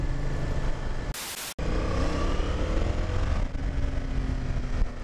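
A 2020 Yamaha Tracer 700 motorcycle engine running steadily while riding, with continuous drone and shifting engine tones mixed with wind noise, interrupted by a brief burst of broadband noise.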